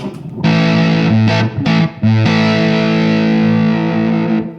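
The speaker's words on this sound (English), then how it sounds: "let's hear the fuzz" An electric guitar played through a Wren and Cuff White Elk fuzz pedal rings out in thick, saturated sustained chords, with a few brief gaps and changes before one long held note fades.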